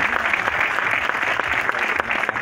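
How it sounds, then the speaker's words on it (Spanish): A crowd at an awards ceremony claps steadily and loudly throughout, a dense continuous patter of applause. "Un aplauso para Federico."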